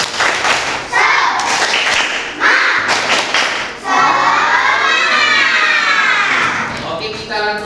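Primary schoolchildren in a class perform a rhythmic spirit clap, with bursts of synchronized clapping and thumping broken by short pauses, then a loud group shout near the end, all in a lively classroom.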